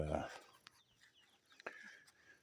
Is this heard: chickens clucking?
yes